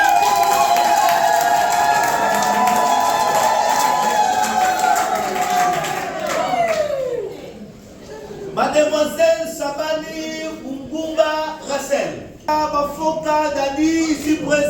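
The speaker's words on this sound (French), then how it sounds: "Oui, applaudissez." Guests at a civil wedding break into cheering and clapping after the officiant speaks, a crowd of voices swelling with claps and shouts after a stretch of talking and music.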